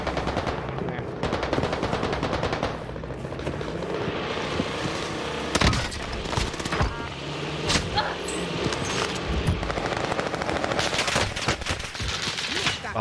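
Rapid gunfire rattles in Call of Duty Warzone Pacific, with sustained machine-gun bursts and sharp individual shots, loud and close, alongside scattered impacts and background battle noise.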